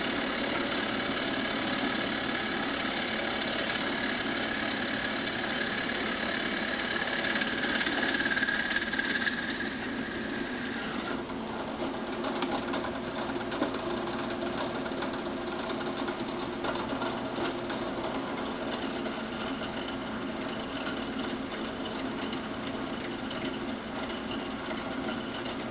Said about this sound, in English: So I'll drill all the shells out for the air vent.